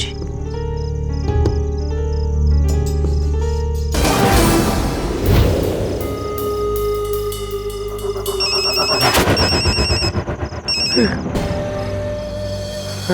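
A telephone rings with a bright, repeating electronic trill over music and background voices, the ringing growing more prominent in the second half.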